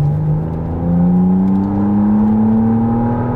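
A 2023 McLaren Artura hybrid sports car accelerating hard, a loud steady engine and electric-motor whine climbing smoothly in pitch throughout, close and continuous with no talking.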